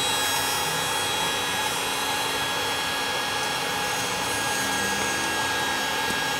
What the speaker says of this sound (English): Kill the hairdryer, that's what it's doing.